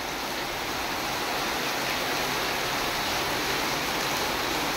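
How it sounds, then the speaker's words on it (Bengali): Heavy rain pouring outside, a loud, dense and continuous hiss of water that stays even and unbroken from start to finish, with no voices. "এই দেখুন খুব জোর বৃষ্টি হচ্ছে।"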